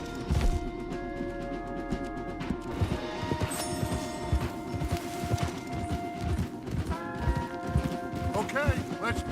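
Horses gallop in a video game with steady clip-clop hoofbeats running through the whole stretch, joined by game music and effects, while voices talk over the action.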